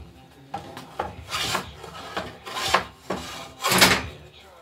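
A hand tool cutting flat-sawn wood while shaping a Greenland paddle: repeated rasping strokes, about six in all, growing longer and louder toward the end, close and alone.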